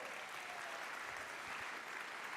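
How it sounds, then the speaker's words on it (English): Steady applause from an audience at a photography awards ceremony honoring photographs of Mexican female wrestlers, dense and continuous clapping throughout with no pauses. "big applause to these luchadoras"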